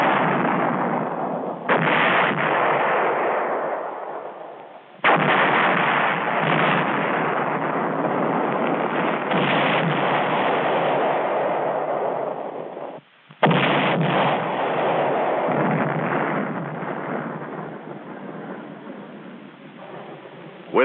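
Pre-planned artillery fire mission on a military position, with heavy sustained booming and rumbling that fills most of the clip in three long loud bursts, each ending in a sharp drop before the next salvo.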